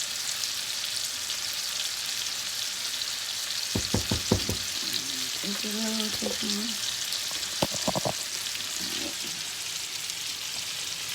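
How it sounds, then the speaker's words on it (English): Chicken fried rice sizzles and bubbles in a pan on a stove, a steady frying hiss with brief clinks of a utensil stirring, close and fairly faint. "Hold on, this is boiling."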